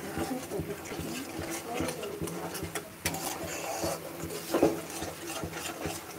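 Spiced mixture with fresh ground green chilli, chilli powder and salt being stirred and sautéed in a pan, a steady scraping and rubbing under frying sizzle, close and continuous.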